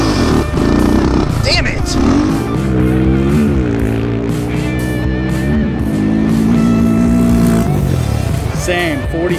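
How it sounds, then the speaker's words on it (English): A Honda 400EX quad with big bore kit and cam doing a second gear launch, its engine roaring loudly and revving up through a rising pitch, close by, with people shouting over it. "I'm going to try a second gear launch."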